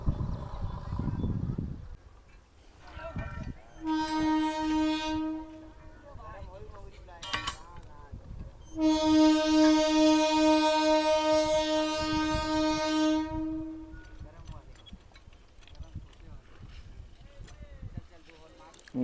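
At Beed railway station platform, a train's horn blares in two long, loud, steady blasts, the second longer, with rumble and platform noise between them.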